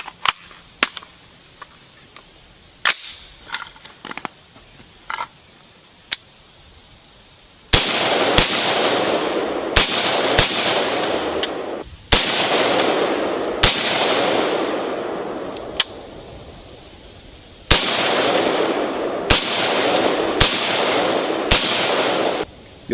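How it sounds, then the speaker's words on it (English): Rifle shots fired from a magazine at an outdoor range, sharp loud cracks spaced a second or two apart, each followed by a long ringing echo tail, with a few lighter clicks and distant shots early on. "we're going to shoot the rest of this other mag"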